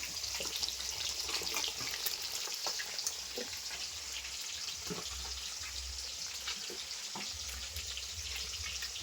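Pieces of hilsa fish fry in a pan, making a steady, fairly faint sizzle with small crackles scattered through it and no talking.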